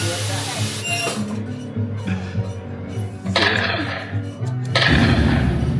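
Repeated loud booming cannon shots ring out from a shooting gallery game in Virginia City, Nevada, with mechanical whirring and clattering carnival noise running throughout.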